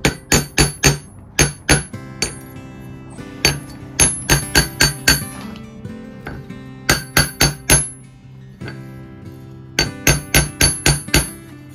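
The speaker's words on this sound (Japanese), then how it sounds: "この弾いた音をピンとピーンとこういい音にするために叩いて締めます。" A hammer strikes the metal tines of a handmade kalimba in quick bursts of four to six sharp, ringing metallic blows, separated by short pauses, close and loud with no speech.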